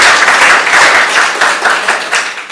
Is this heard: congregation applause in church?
yes